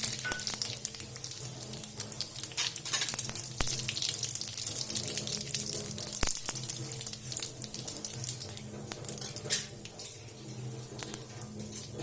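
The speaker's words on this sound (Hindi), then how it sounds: "फोरन में हम जीर, मिर्च और तेज पत्ता डाले छी।" Cumin, dried chilli and bay leaf fry in about 150 grams of hot oil as a tempering for Delhi-style rajma masala, giving a steady, close, crackling sizzle with no voices.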